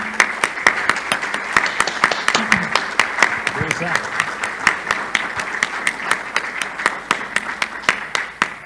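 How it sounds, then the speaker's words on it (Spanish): An audience applauds at a book launch about the history of women's football, a steady run of close, sharp hand claps lasting throughout, with a few voices murmuring underneath. "un aplauso para Ailu."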